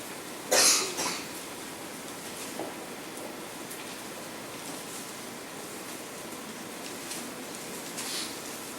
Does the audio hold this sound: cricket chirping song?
no